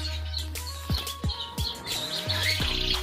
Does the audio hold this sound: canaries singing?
yes